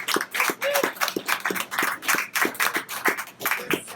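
A small group at a book launch in a bar and museum claps in loose, uneven bursts. The individual sharp hand claps are clearly separate and close, with no talking over them.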